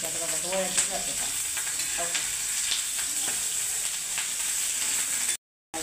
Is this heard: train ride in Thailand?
no